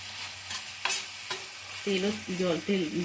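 Onion-tomato masala with vinegar sautés in oil for green chilli chicken, a steady sizzle under repeated spatula scrapes; a wavering tonal whine rises over the frying in the latter half.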